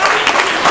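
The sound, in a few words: applause for group 1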